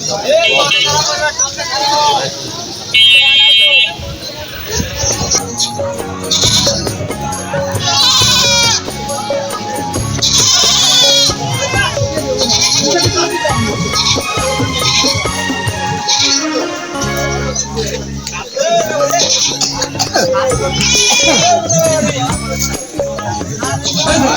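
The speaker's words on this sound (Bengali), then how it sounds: "এখানে তিনটি সাদা রঙের ছাগল দেখা যাচ্ছে" White goats at a busy rural goat market bleat repeatedly amid loud crowd chatter and nearby voices, the short bleats breaking through the continuous talk.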